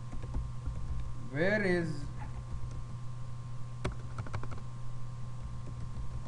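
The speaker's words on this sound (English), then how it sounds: "I will be just typing the questions here" Computer keyboard keys clack in a short burst of quick taps as questions are typed. A brief spoken phrase comes first, and a steady electrical hum runs underneath.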